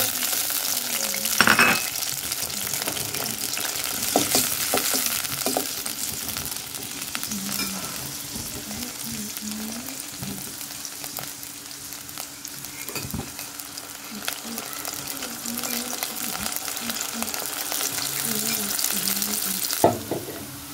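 Mung dal frying in a pan, a continuous close sizzle with scattered light scrapes and clicks of stirring, a sharper knock near the start and a louder burst at the end.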